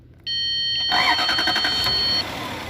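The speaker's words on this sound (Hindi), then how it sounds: "गाड़ी स्टार्ट होगी गाड़ी।" A 2006 Lexus GS430 engine cranks and starts with a loud, close starter whir that catches into a steady running note lasting about two seconds, then settles lower.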